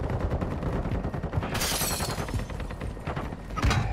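Dense, continuous gunfire fills a Warzone 2.0 match, with rapid overlapping shots and bursts close by, sharp louder cracks near the middle and the end, and no talking over it.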